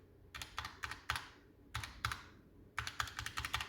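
Keystrokes on a Razer Huntsman Tournament Edition keyboard, sounding as quick clusters of crisp clicky taps in short bursts with brief pauses between them, fairly close and moderately loud with no voices.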